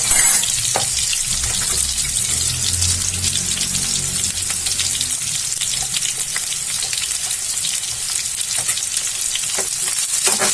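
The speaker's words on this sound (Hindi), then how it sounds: "बिल्कुल हल्का ही भूनना है इसे" Two onions frying lightly in a pan, a steady close sizzle with a broad hiss running throughout and occasional soft clicks of stirring, no voices.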